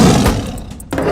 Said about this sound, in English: The tiger growled loudly